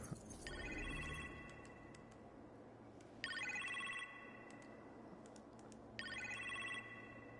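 A phone rings in the video game Marvel's Iron Man VR, three repeated electronic ring bursts evenly spaced over a quiet background hum, with no talking.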